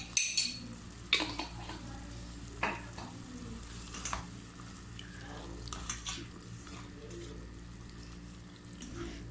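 Beef with black pepper frying in a pan, a steady soft sizzle with a few sharp scraping stirs near the start and occasional clinks and spatters later, close but fairly quiet, no talking.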